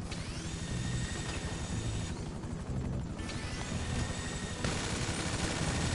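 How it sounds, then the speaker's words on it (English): A helicopter flies in a GTA video game, its rotor chop dense and continuous and mixed with game gunfire and sweeping tones. "Oh, I hate the way this helicopter is flying right now."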